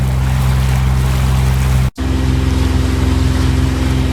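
A sailboat's inboard engine runs at 3,000 rpm with a steady, loud rattling drone and a constant low hum, broken by a brief instant of silence before the same running note carries on.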